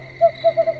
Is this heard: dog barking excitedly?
no